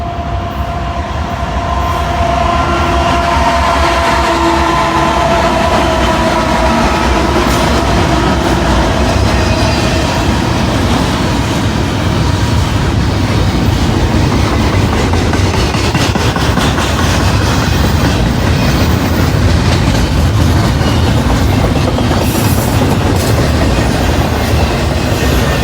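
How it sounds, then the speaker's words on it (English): A southbound Norfolk Southern intermodal freight train rolls past at close range, a loud, continuous rumble with rail clatter and faint wheel squeal, steady throughout with no voices. "Another southbound Norfolk Southern. This is an intermodal down here at Canal Ridge."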